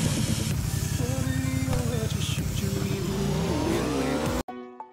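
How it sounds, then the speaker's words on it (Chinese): A motorcycle engine roars and revs continuously in the mobile shooter game Peacekeeper Elite, with pitch rising and falling as the bike is ridden, loud and close, cutting off abruptly near the end. "只需要骑一辆摩托，走出口的位置就能冲进去"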